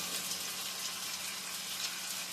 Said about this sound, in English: I'm going to add my cutlets to my skillet, one at a time here.